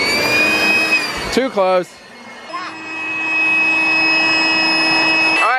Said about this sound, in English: We should leave this out here so you guys can dry your hair after swimming.